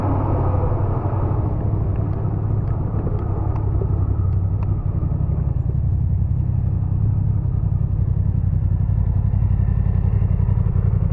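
Motorcycle engine idling close by with a steady low rumble and dense mechanical clatter, continuous and fairly loud from start to end, on a wet road after rain.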